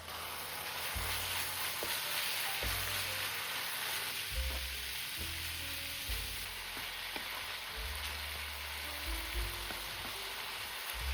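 Steady hiss of chicken frying in a hot pan, with occasional clinks and low thuds of stirring, continuous and close.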